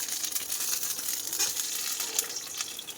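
River crabs fry in a pan, giving a faint, steady crackling sizzle with fine spitting pops, close by and without talk.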